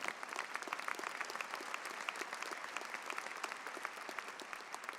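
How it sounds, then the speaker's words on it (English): A large audience at the 2012 spring commencement at UNC-Chapel Hill applauds steadily, a sustained wash of many hands clapping that sounds distant and soft, with no voices rising above it. "He does deserve a round of applause."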